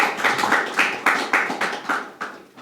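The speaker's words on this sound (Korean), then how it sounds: "나는 박수로 나는 격려하고 싶어요" Audience applause at a 50th anniversary ceremony of a professors' peace association, heard as a steady run of close, crisp hand claps with regular swells, and no voices over it.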